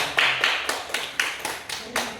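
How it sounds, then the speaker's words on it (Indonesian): Classroom applause after a group presentation, about nine distinct claps in an even rhythm over two seconds, moderately loud and close, with no talking. "Beri tepuk tangan."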